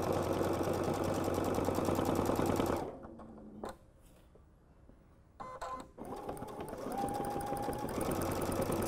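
A sewing machine runs fast, close and steady while free-motion quilting swirl feathers. It stops for a few seconds, gives a couple of short clicks and bursts, then starts up again, with no talk over it.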